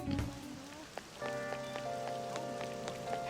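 Steady rainfall ambience from the video game Persona 5 Royal, a soft continuous patter with scattered droplet ticks, joined partway through by a sustained musical tone layer.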